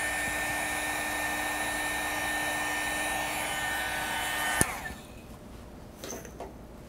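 A hair dryer blows hard and steadily on wet pink paint for several seconds, then clicks off abruptly, leaving faint handling noises behind.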